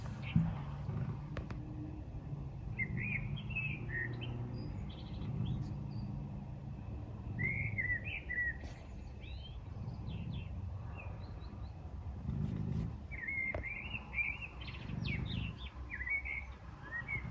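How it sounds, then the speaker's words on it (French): A small bird sings near a window at about six in the morning, repeating short bright chirping phrases at moderate distance, with soft low room rumble and faint movement beneath. "il y a un petit oiseau qui vient chanter là, juste à côté de la fenêtre"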